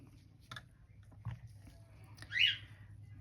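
A pet bird gives a single faint chirp in the background of a quiet indoor room, with a few soft handling clicks and a low hum beneath.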